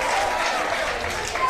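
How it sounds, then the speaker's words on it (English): A baseball crowd at a prep game reacts to a foul ball with a broad, steady roar of cheering and scattered clapping, while a commentator talks over it. "And fans reacting to every pitcher."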